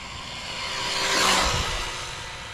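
A Rlaarlo XTS Rally Carbon Edition RC car running on its factory 3-cell battery whizzes past with a high electric whine that swells to a peak and fades away.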